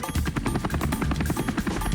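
A cartoon helicopter from the animated Honey Bunny Ka Jholmaal, its rotor a steady rapid chopping pulse, loud and close, running alone for two seconds.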